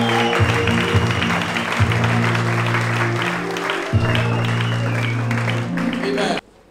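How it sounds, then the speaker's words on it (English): Church congregation at a Sunday service applauding steadily for several seconds over a sustained organ or keyboard chord, with some voices mixed in, before the sound cuts off abruptly. "Can somebody give Jesus a round of applause?"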